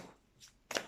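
A single oracle card drawn from the deck gives a crisp, brief papery snap near the end, with a fainter rustle of cards just before it in an otherwise quiet room.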